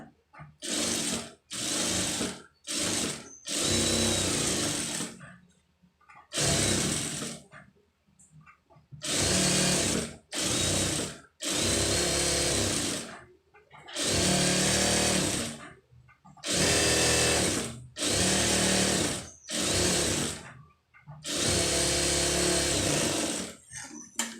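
A sewing machine stitching a lined blouse runs in repeated loud bursts of whirring of a second or two each, separated by short pauses as the fabric is repositioned.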